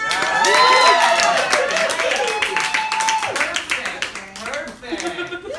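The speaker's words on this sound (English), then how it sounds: "I just want to get a round of applause here" Audience members at a comedy-style talk clap and cheer loudly, with whoops and shouting voices over the clapping that fades gradually toward the end.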